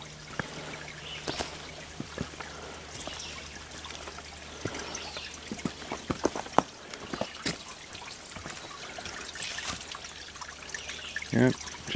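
A small stream trickling gently over its bed along a nature trail at Fort Mountain State Park, Georgia; soft steady water with faint dribbles, and quiet talk and footsteps nearby.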